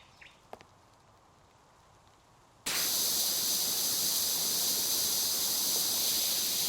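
Sprayer coating a main roof, starting abruptly after a quiet stretch with a few faint knocks, then a loud, steady hiss holding at constant strength.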